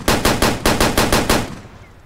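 A loud, close burst of automatic fire from an anti-aircraft gun mounted on a UTV in Way of the Hunter, about eight rapid evenly spaced shots before it cuts off and fades.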